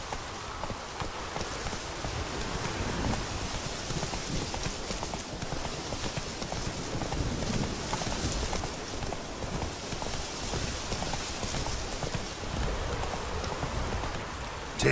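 Horse hooves in The Witcher 3 video game, a steady stream of clip-clop hoofbeats at a run that continues for the whole stretch over a constant noisy background.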